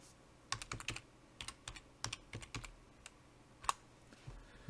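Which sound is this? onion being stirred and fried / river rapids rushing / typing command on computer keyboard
typing command on computer keyboard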